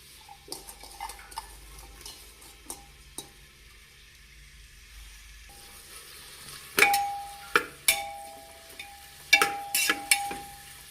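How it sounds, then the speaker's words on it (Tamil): Onions sautéing in ghee in a pressure cooker, a faint sizzle under repeated scraping and clinking of a spoon against the pot, close by. "நல்லா பொன்னிறமாக வர வரைக்கும் வதக்கிக்கலாங்க"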